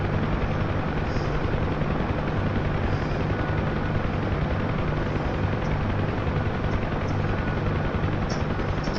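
Huey helicopter in flight, a loud, continuous close rotor and turbine roar with a steady throbbing beat throughout.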